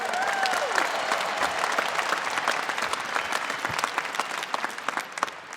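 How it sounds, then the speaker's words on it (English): Dense, sustained applause from a large graduation ceremony crowd filling Marvel Stadium for the 2019 RMIT University Victorian ceremony, steady and loud throughout with a few sharper individual claps near the end. "Give yourselves a big round of applause."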